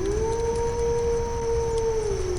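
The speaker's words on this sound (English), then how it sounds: "The distant sound of a wolf's howl carried on the wind, an ominous sound for the night ahead." A distant wolf howl from the dark-fantasy game Diablo 4, one long steady sustained tone with a faint upper harmonic, carried alone over a low wind-like background and gently falling at its end.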